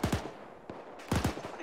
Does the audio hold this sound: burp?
no